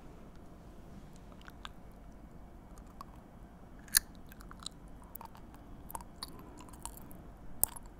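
Coffee jelly, the sweet latte kind, is eaten close to the mic, giving soft chewing with a few sharp crisp clicks and crunches over quiet background, no talking.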